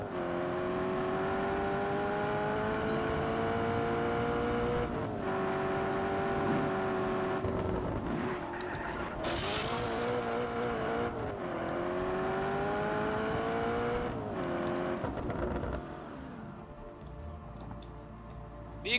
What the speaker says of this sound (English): Yes, I'm aware it's a tractor.